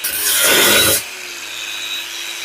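Grosser GAG 120N cordless brushless angle grinder with a 4 Ah battery cutting through round rebar, a loud harsh abrasive screech for about one second that cuts off abruptly, leaving a faint motor whine winding down.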